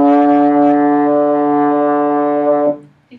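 A trombone holds a single steady D for nearly three seconds, close and loud, then stops abruptly and leaves a brief quiet tail.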